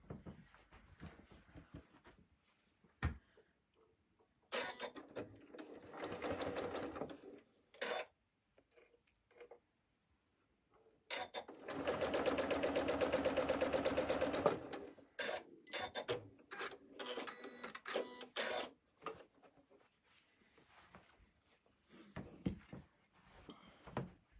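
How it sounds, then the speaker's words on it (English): A sewing machine stitches pinned quilt pieces together in one continuous run of fast, even whirring lasting a few seconds, with quieter handling and fabric sounds around it. "And we'll go and sew it."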